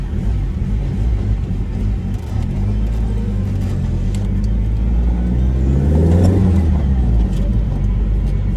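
A turbocharged car engine revs up while driving, a deep rumbling drone that climbs in pitch and loudness to a peak before easing back, heard from close inside the car.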